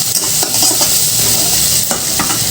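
Onions frying loudly in a pan, a dense close sizzle with quick spatula scrapes and stirs layered through it, no speech.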